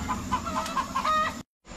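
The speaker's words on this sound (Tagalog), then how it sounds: "Manok ka." A chicken clucks in a quick series of short calls close by, then the sound cuts off abruptly near the end.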